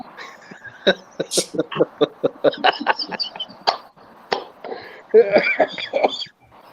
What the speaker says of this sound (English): I've had this cough.